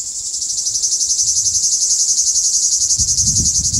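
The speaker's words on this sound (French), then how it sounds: "Donc c'est un mâle qui chante pour attirer la femelle." A male grande cigale sings to attract a female under a clear Provence sky, a loud continuous pulsing buzz close by, with a brief low rustle near the end.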